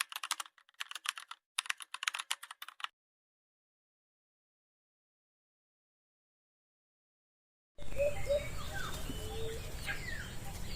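Birds chirp in trees over a steady outdoor background in the last few seconds, after bursts of keyboard tapping and a long silence.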